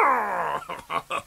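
A cartoon dog lets out a drawn-out whining yelp that falls in pitch, followed by three short, sharp barks, loud and close.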